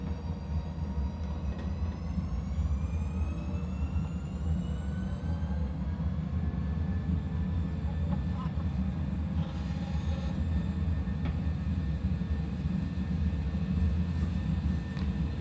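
Airliner engines spooling up for takeoff in a flight simulator game, a loud steady roar with rising whine tones climbing gradually over the run, no voices.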